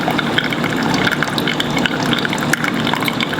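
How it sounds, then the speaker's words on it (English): Hot water poured steadily over coffee grounds in a pour-over filter, a continuous close splashing trickle with no break, no voices. "Instead, you pour on the beans themselves."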